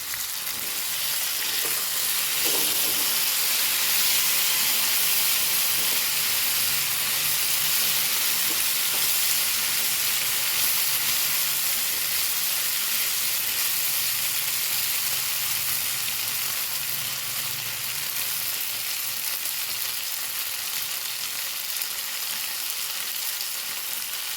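Prawns fry in a pan of hot oil, giving a loud, continuous hiss and sizzle. It holds steady for the whole stretch with no talking.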